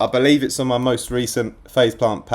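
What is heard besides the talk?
No everyday noise stands out behind the speech.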